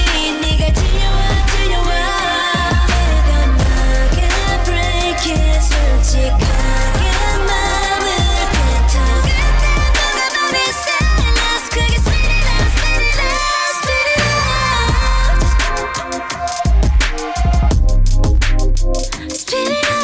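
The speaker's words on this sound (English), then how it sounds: "I love that pumping synth sound." A loud, dense pop track plays with a throbbing, pumping synth under heavy bass and bright high layers, with brief dropouts and sudden hits.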